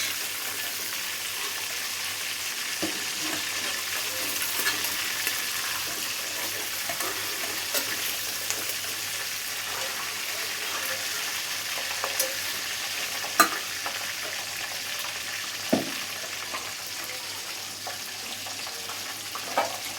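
Sliced onions sizzle in hot oil in a pan, a continuous steady crackle with occasional sharp clinks of a spoon stirring against the pan.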